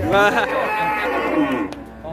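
A cow at the Singosari cattle market gives a long, loud, close moo that carries for about two seconds over faint market murmur.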